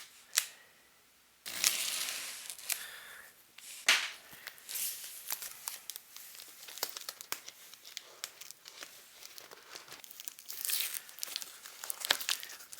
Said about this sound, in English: give me a second to cut the tape